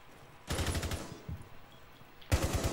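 Two bursts of rapid automatic gunfire in the tactical shooter Rainbow Six Siege, a long volley followed by a shorter one after a brief lull, loud and close.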